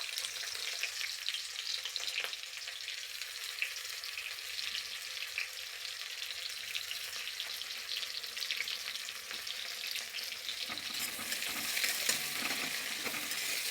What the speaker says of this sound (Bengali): পেঁয়াজটা আমি লাল করে ভেজে নেব।